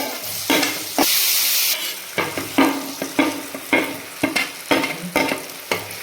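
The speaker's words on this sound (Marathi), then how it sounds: "कांदा बघा चांगला छान शिजला आहे तर हा अर्धा शिजला ना की मग ह्याच्यामध्ये टॅमॅटो घालायचं" Chopped onions and tomatoes frying in a pan for a turmeric-style Agri mutton dish, a soft sizzle broken by repeated scraping stirs of a spoon against the pan, one brighter hiss burst near the start.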